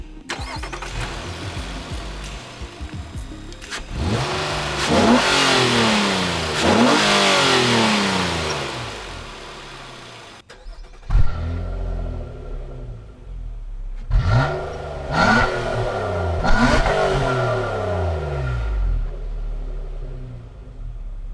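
A 2017 Nissan Maxima SR with a 3.5-liter dual overhead cam V6 starts and revs, rising in repeated surges of acceleration heard close and loud with no talking.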